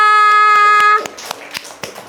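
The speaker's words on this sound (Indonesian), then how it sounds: "Beri tepuk tangan untuk kita semua." In a classroom, a sustained electronic tone holds for about a second, then gives way to scattered, sharp hand claps from the class that continue unevenly.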